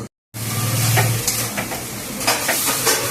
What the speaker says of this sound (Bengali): ঢাকা দিয়ে দিলাম আস্তে আস্তে শাকটা সেদ্ধ হয়ে যাবে